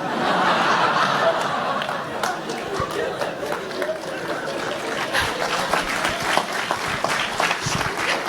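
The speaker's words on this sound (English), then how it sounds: "Only the women are clapping." Women in the audience at an India business conference clap in scattered, uneven bursts, mixed with laughter and chuckles while a voice keeps talking over the room.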